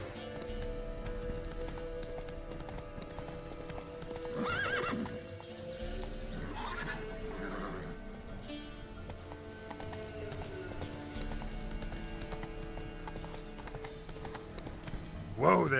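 Roach, the horse in The Witcher 3, gallops with steady clip-clopping hooves and gives a couple of loud whinnies midway, set against a continuous game music and ambience bed with a voice faintly under it.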